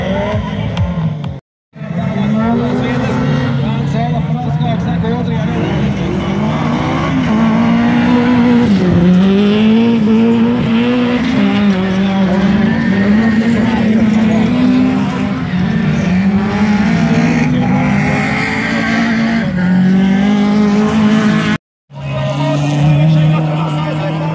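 Rallycross cars race around the NEZ Rallycross 2016 track, their loud engines revving and shifting continuously with tyre noise, while a commentator talks over them throughout.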